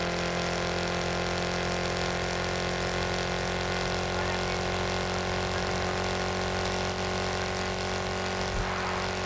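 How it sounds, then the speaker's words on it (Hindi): A sports car's engine drones in the video game Car Parking Multiplayer, a constant steady hum with a fixed tone running unbroken throughout. "अभी मेरा भाई गाड़ी चला रहा है"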